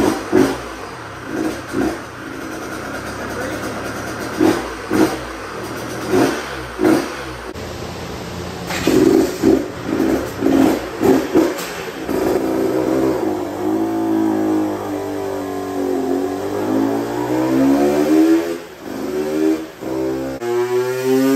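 A two-stroke Husky dirt bike with EFI and an SX1 ECU fires up and revs on a dyno, the engine popping at idle then rising into sustained loud revving, close and alone.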